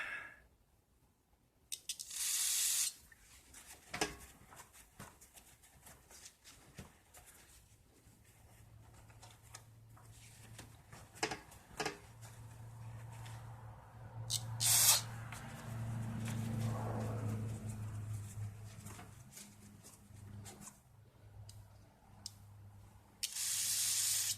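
Aerosol parts cleaner sprayed onto the mechanism of a 1966 Rheem/Califone 1450 record player gives several sharp, close hissing bursts, with quieter handling clatter and a low mechanical hum in between.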